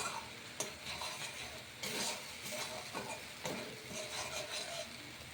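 Spice masala frying and being stirred in a pan for a cauliflower, potato, capsicum and paneer vegetable curry, with a steady soft sizzle and repeated scraping strokes, close and moderately loud, no talking.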